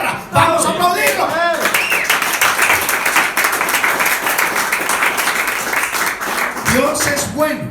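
A church congregation bursts into applause, sustained loud clapping that follows a brief voice and swells for several seconds before voices return at the end.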